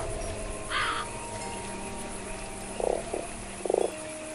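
A toad in the video game Fran Bow gives three short, low, raspy croaks spread over a few seconds, preceded by a brief higher call, over a quiet steady game background.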